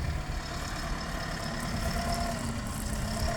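A Deutz tractor engine runs at a steady idle with a continuous low, rumbling drone that stays close and even throughout, with no talking.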